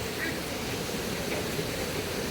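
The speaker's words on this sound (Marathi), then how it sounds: "इकडे नदी आहे मागे" A river flows beside a mountain trail, a steady, even rush of water filling the background with broadband hiss and no distinct events.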